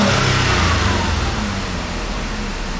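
A 2005 Ford Escape 3.0L V6 with a misfiring ignition coil runs loud and near, a rough, steady engine drone with low throbbing and no speech.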